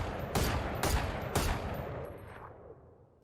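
A weapon fires three single, evenly spaced shots in the video game Valorant. Each shot is loud and sharp with a short echoing tail, and the sound fades out afterward.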